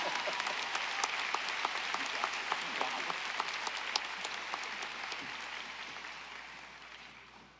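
Audience applause at a University of Evansville commencement ceremony, steady distant clapping from a large crowd in a hall that holds evenly before slowly fading out.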